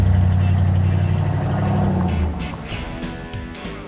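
The Barris Kustoms custom dream truck's engine runs with a loud, throaty, deep rumble that fades slightly toward the end, heard alone and up close.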